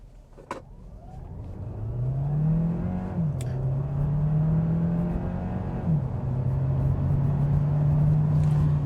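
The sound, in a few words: 2025 Hyundai Tucson Hybrid accelerating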